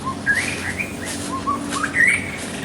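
A young white-rumped shama (murai batu) kept in a cage gives short, clear whistled chirps and rising notes at close range, scattered over a soft steady background hum, with no one speaking.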